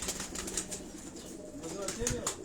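Pigeons on a rooftop in Defence, Karachi give soft coos and brief wing flutters close by, under a steady faint background hum with occasional murmuring voices.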